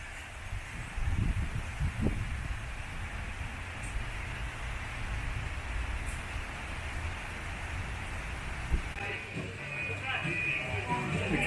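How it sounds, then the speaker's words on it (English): Rain and strong wind lash a railway station platform in steady broadband noise that holds at the same level throughout, and gusts buffet the microphone now and then. "there's not much I can do with the rain, and it is quite windy"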